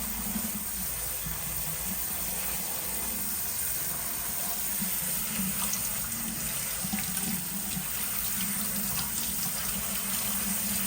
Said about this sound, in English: So we're gonna rinse that spaghetti out. We're gonna rinse it off in cold water.